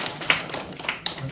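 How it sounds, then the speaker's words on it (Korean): Soft hand claps during a priest's Advent lecture, a few quiet, separate smacks spaced unevenly in an otherwise hushed room. "이때 박수 한번 치는"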